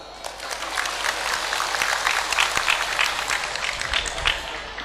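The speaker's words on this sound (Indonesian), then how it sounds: "Boleh tepuk tangan." An audience at an Indonesian religious lecture applauds in a steady, dense round of clapping that lasts several seconds.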